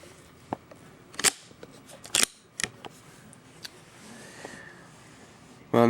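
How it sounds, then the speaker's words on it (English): Mossberg 640 KC shotgun bolt worked by hand after the trigger group is reassembled: a few sharp, close metallic clicks and clacks spaced irregularly over a quiet background, with one louder snap at the end. "now it's back together, and you can work the bolt"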